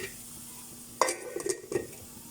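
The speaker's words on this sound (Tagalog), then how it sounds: "Nagigisa na po tayo sa ating ginataang biya." Biya fish being sautéed for ginataang biya, with soft sizzling under a sharp utensil clink and several stirring scrapes against the pan.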